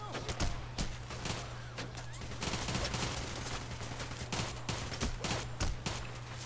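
Enemy gunfire in the heist shooter Payday The Heist: repeated sharp shots and short bursts cracking irregularly over a steady low hum, moderately loud, with someone speaking German between the shots.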